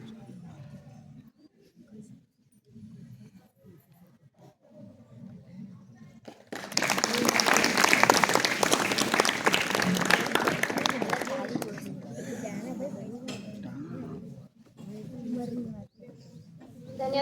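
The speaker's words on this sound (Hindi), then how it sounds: "ताली बजाएंगे।" An audience at a school alumni meet breaks into sustained clapping for several seconds, loud and dense, after and before a voice speaking on a microphone in a hall.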